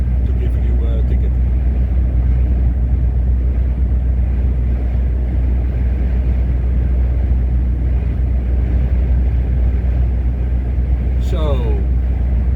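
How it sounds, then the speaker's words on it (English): A car driving along the A4 road, heard from inside as a steady, loud low rumble of engine and tyre noise that holds unchanged throughout. "Driving on the A4."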